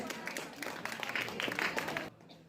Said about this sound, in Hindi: जोरदार ताली लगाइए।